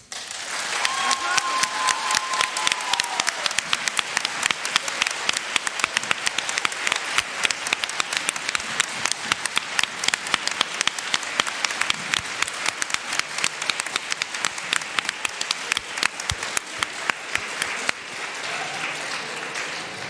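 Loud, sustained audience applause following a speech at a national student eloquence contest, a dense rapid clatter of many hands that holds steady before easing slightly near the end, with a voice briefly audible early on.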